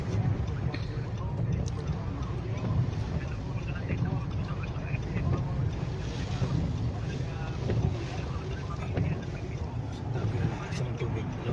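Strong typhoon wind in Cebu roars steadily into the microphone as a dense, continuous buffeting rumble, with voices faintly mixed in beneath it.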